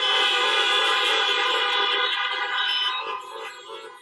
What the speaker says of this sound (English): Honk for justice.